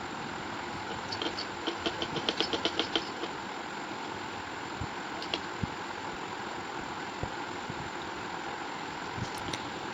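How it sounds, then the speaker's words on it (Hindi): An electric sewing machine stitches a frock made from new and old dupatta cloth, giving a steady, close motor whir that runs the whole time with a brief rhythmic burst of stitching near the start and no talking. "यहाँ से हमने सिलाई जो है वो जंप करके आगे लगानी है"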